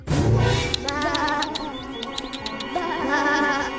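Sheep bleat in several quavering calls, close and fairly loud, overlapping with other wavering tonal sounds for a few seconds.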